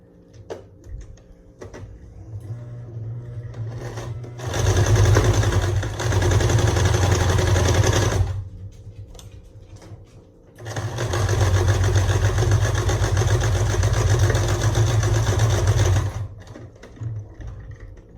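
A sewing machine stitches the seams of a fabric face mask in two long, steady bursts of loud whirring, separated by a short pause with faint handling sounds.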